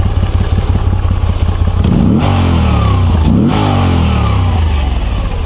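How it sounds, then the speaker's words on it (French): A Moto Guzzi V85 TT motorcycle, a 2022 Travel model, revs loudly and close up through its exhaust, rising and falling twice over a steady idle, with no talking. "Alors je vais tout de suite vous faire chanter le pot."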